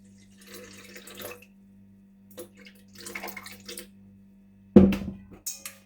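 375 grams of water poured into focaccia dough, heard as faint intermittent trickles and pours over a low hum, ending with a louder splash and a few short bursts.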